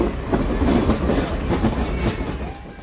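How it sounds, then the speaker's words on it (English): A passenger train rolls along its tracks through small Texas towns, giving a steady loud rumble with rhythmic clickety-clack of wheels over rail joints and faint metallic squeals, with no voices. "This was the view aboard the train as crowds gathered along the tracks."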